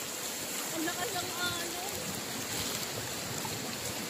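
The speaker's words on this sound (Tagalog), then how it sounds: "Lakas ng agos." Strong current of the Tinipak River rushing past, a continuous broadband wash of water, moderately loud and steady with no breaks.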